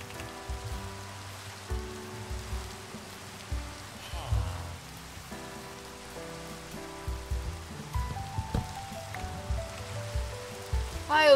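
Rain falls in the Minecraft video game as a steady, soft patter that runs throughout, mixed under background music with scattered brighter tones.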